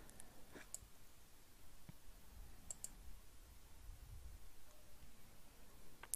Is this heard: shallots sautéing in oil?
no